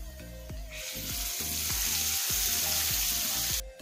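Ginger garlic paste hits hot oil with cumin seeds and onions, giving a loud, steady sizzle and frying crackle that swells and holds for several seconds, with regular low thumps of a spoon against the pan underneath.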